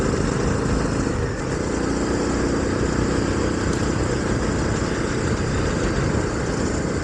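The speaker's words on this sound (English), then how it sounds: "I do like the sound of the engine on this bike" A 2019 Honda CB300R single-cylinder motorcycle engine runs steadily with a low, chugging drone, loud and continuous for several seconds, no voices.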